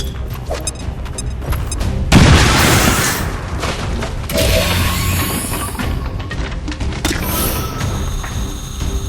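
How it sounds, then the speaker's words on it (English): An impact detonation in a sci-fi video game sends a loud, heavy boom rolling through dense battle noise, followed by more crashes, mechanical clatter and rumbling blasts over several seconds. "Impact detonation!"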